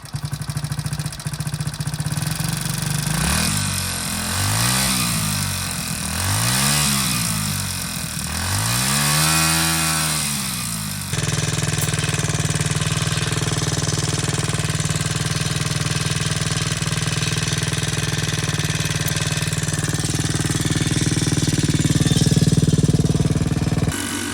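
A 1980 Suzuki ZR dirt bike engine runs close by, revving in several rising and falling surges before settling into a steady buzzing idle.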